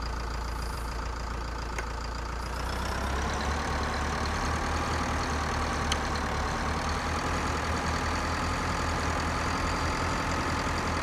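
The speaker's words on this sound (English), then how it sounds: "so here's another tractor. We have a Proxima 120." Zetor Proxima 120 tractor engine idling in the farming game Pure Farming 2018, a steady low diesel rumble with a constant mechanical hum that holds evenly throughout, slightly fuller after the first few seconds.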